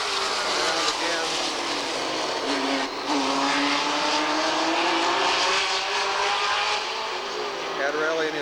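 Super stock race cars roar down the straight at Redwood Empire Raceway, a loud sustained engine howl with rising and falling pitch as cars pass, and a commentator talking over the racing.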